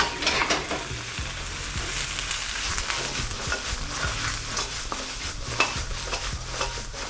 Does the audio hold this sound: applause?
no